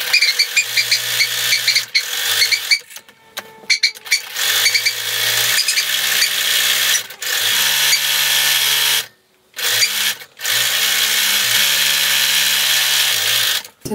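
A sewing machine or serger stitches the seams of a fleece balaclava in short runs of steady mechanical whirring, with brief pauses and restarts between bursts, close up and without talk.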